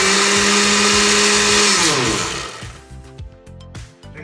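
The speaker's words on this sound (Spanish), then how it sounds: "Realicé las pruebas de la licuadora y funcionó correctamente." A repaired Oster blender runs on a test, its motor whining loudly and steadily before winding down into rattling, clattering bursts as it slows and stops.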